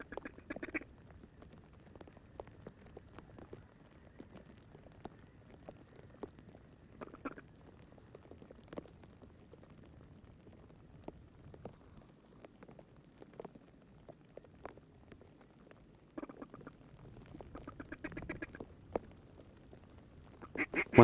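Duck hunting calls directed at a passing group of ducks, with scattered quacks and short call bursts, soft and distant through most of the stretch, growing louder in a cluster near the end.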